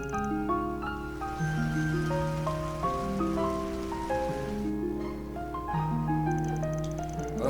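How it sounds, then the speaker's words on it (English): Steady rain patter in the video game Trails Through Daybreak, a continuous soft hiss running under sustained melodic game music for the whole stretch. "Looks like it's raining out."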